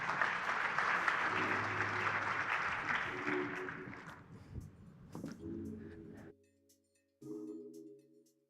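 Audience applause at the inaugural session of the 25th DCVMN Annual General Meeting, a steady round of clapping for about four seconds that thins out, with brief talking and background tones as it fades.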